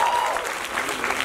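Dense, loud audience applause fills a concert hall at a music event, a continuous wash of many hands clapping for a singer.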